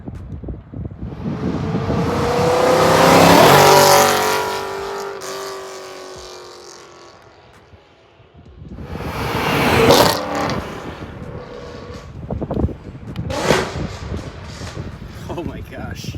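A straight-piped BMW E93 M3 with OEM muffler flies by, swelling loud as it accelerates past, fading, then a second rising pass with revving, wind buffeting the microphone throughout.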